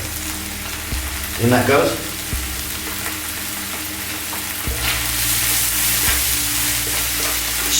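Ground chili, coriander, cumin and turmeric hit hot oil in a pan for an Indian fish curry, a bright sizzle and hiss that steadies over a few seconds, with occasional stirring knocks and a brief spoken line near the start.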